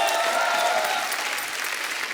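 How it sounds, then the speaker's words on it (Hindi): A studio audience claps at a Hindi comedy talk show, a dense, steady burst of applause that fades slightly toward the end. "सबके लिए जोरदार ताली।"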